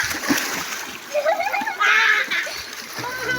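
Children splashing while wading and swimming in a provincial river, with bursts of splashing water and sloshing, children's voices calling out nearby over the water noise.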